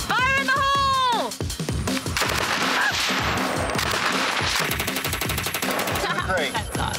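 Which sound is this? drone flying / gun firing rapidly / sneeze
gun firing rapidly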